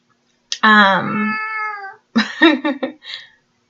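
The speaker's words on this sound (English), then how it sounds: "That's my cat telling me he wants to go." A cat gives a long, drawn-out meow, then a quick run of shorter chirpy meows, close by and loud, with no other sound.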